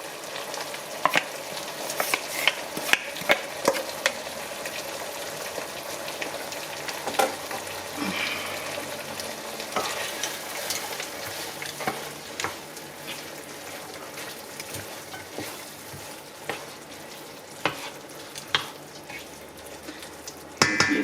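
Frozen beans stir-fried in a pan for chow mein, a steady close sizzle with intermittent clinks and scrapes of a utensil stirring through the pan, no talking.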